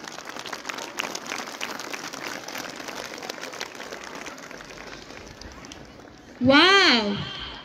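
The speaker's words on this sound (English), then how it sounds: "Let us once again give them a big round of applause" An audience at a Jesuit school cultural and sports meet opening ceremony applauds after a student performance with sustained, dense clapping, then a voice cuts in loudly near the end.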